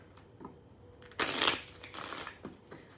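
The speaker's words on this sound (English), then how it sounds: "One more shuffle." A deck of tarot cards being shuffled close by, a brief rushing riffle followed by softer papery flicks and taps, with no talking.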